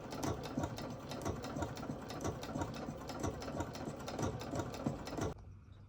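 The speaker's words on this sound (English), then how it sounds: "So we've placed the pocket on with a triple stitch with a nice Gutermann hot pink thread." A sewing machine triple-stitches a pocket onto a drawstring bag with hot pink Gutermann thread, a fast, steady mechanical chatter close by that stops abruptly near the end.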